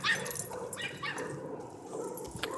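A puppy on a leash whimpers and gives small high yips in scattered bursts, close by, amid light rustling and outdoor background noise.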